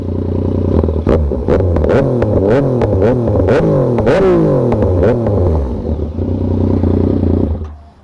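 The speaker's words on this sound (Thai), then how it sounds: "เดี๋ยวผมให้ฟังเสียงอีกรอบหนึ่งนะทุกคน เป็นสามสูบนะตัวนี้สามสูบ" Yamaha MT-09 three-cylinder motorcycle engine revved hard in a loud, continuous run of sharp throttle blips with rising and falling pitch, close up and alone, fading out at the end.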